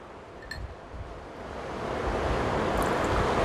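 Ice rattling inside a cocktail shaker as a lemon drop martini with lemon-infused vodka and lemon juice is shaken, a dense, rushing rattle that grows louder and steadier toward the end.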